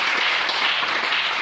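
A church congregation applauds in a dense, continuous wash of clapping that holds steady and loud throughout.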